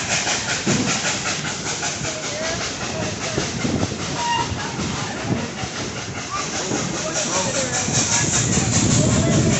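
Steam train climbing a mountain line in Tennessee, a steady hissing chug with rhythmic clattering of rail cars that swells slightly toward the end.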